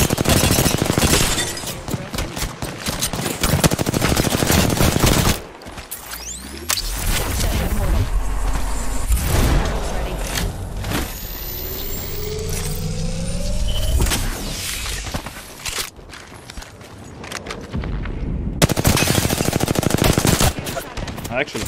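Apex Legends battle-royale gunfire: rapid automatic bursts crackle loudly in clusters, pause for a stretch of quieter movement and effects, then return in heavy sustained volleys near the end.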